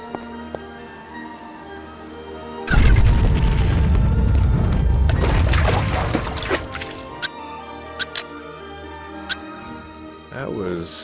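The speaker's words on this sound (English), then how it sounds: "That was some explosion, wasn't it?" A deep, loud explosion booms in the video game Outcast 1.1 and rumbles on for several seconds over a steady game music bed, then fades into quieter scattered effects and clicks.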